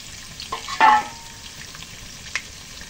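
Chopped Holland onions drop into a hot pan for nasi goreng and fry with a brief burst of close sizzling and stirring, then settle to a soft background crackle.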